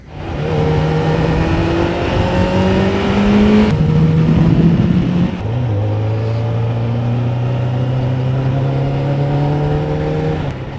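A 2002 Kawasaki ZX7R 750cc superbike engine revs loud and close, its pitch climbing and falling through repeated throttle blips, then settling into a sustained high rev.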